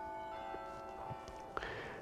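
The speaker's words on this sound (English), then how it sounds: "Oh, there's church bells." Church bells ring faintly in the distance outdoors, their steady tones sustained over a low background with no talk.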